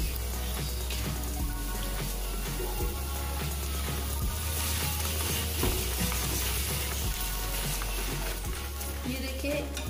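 A palak roll fries in oil on a flat pan, making a constant close sizzle with scattered light crackles and a low hum underneath. Nobody talks.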